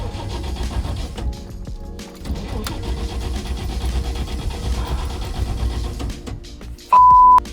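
A 1965 Ford Mustang engine cranks and catches, then settles into a rumbling idle close by. A brief tone sounds near the end.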